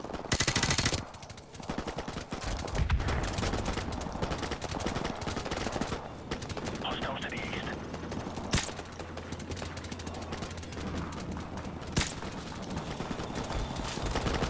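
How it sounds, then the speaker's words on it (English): Rapid automatic gunfire and scattered single shots ring out through a Call of Duty Modern Warfare village firefight, loud and close over a dense bed of battle noise, with a couple of sharp louder cracks standing out. "Who is shooting me?"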